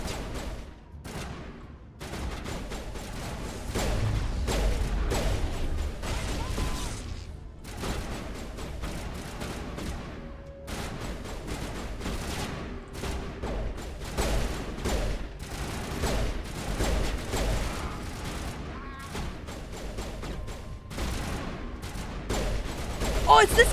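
Gunfire in the video game Mass Effect: rapid bursts of shots and rattling volleys run almost continuously, fairly loud, with voices or game sounds mixed in.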